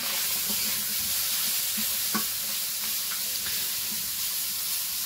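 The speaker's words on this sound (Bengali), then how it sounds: "তো এই দিকে মা মাছ ভাজতে দিয়ে দিছে কড়াইয়ে।" Fish fries in oil in a kadai in a village kitchen, a dense continuous sizzle and crackle with faint stirring clicks, even in level from start to finish, and no one speaking.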